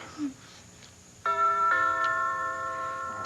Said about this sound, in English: It's an obscene hour for anybody to be ringing the doorbell.